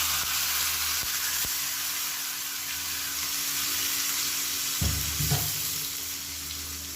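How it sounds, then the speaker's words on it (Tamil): Hot tempering oil poured into freshly ground chutney, a steady loud broadband sizzle throughout with a low thump and brief surge near the end, close up and without speech. "அமர்த்திட்டு நம்ம அரைச்சி வச்சிருக்க சட்னியில் வந்து அப்படியே கொட்டிடலாம்"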